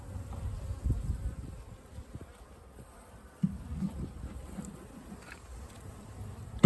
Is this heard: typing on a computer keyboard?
no